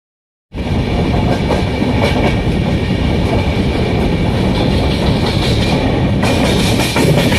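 An Indian express train runs on the Mumbai to Nagpur line near Wardha Junction, heard from inside an AC three-tier economy coach: after a brief silence, a loud, steady rumble and clatter of wheels on track continues without talk.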